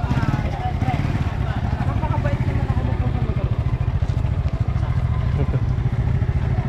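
A rented motorcycle heads downhill on Mount Makiling in Los Baños, Laguna, its engine thrumming in a fast steady pulse close by, with people talking over the ride.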